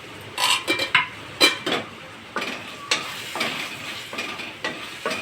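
Tomatoes cooking in a pan for an okra and tomato curry, with a spoon clinking and scraping against the pan in a quick cluster of knocks, then slower stirring taps over a faint sizzle.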